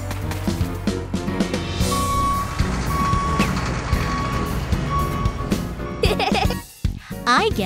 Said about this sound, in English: I guess Pinkfong wants to build a castle with a cool-looking construction vehicle